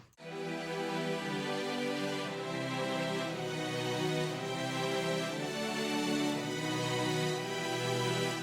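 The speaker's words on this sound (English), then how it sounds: "it makes the strings feel very epic" Sustained orchestral strings play slow, layered chords in a broad, lush texture with no voices present.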